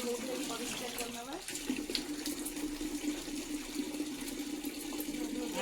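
Tap water runs steadily while crabs are washed and cleaned in a home kitchen sink for an Odia crab curry, a continuous hiss with small splashes and knocks.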